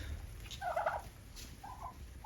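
Turkeys and chickens gobble and cluck while eating after deworming, with two or three short bursts over a low background.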